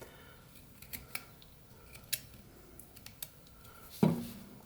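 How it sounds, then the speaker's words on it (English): A pocket knife whittles a small wood spirit carving, giving faint, scattered scraping and snipping cuts close by, with one sharper, louder cut near the end and no talking. "I kind of just cut it upward at an angle just a bit."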